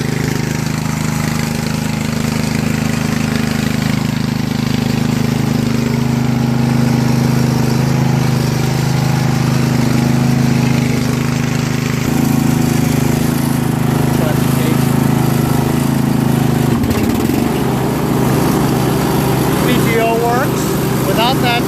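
Craftsman 13.5HP 30-inch riding lawn mower engine running with a loose muffler, a loud steady low drone and rattle up close, with a shift in pitch partway and a brief voice near the end.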